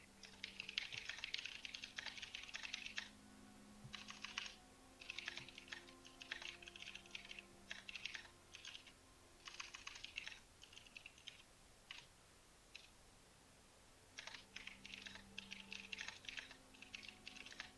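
Quiet computer keyboard typing in bursts of rapid key clicks separated by short pauses, close but faint, with no talking.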